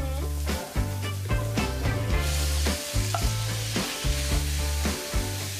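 Food sizzling and frying in a pan, with rhythmic scraping and stirring strokes and a loud, steady crackle throughout.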